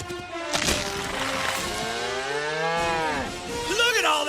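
Cow moo used as a sound effect in a radio ad, one long, loud drawn-out bellow that slides in pitch and lasts most of four seconds, with a brief rising tail at the end.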